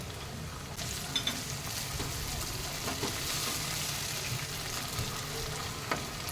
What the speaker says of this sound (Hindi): अब हम इसमें टमाटर डाल देंगे।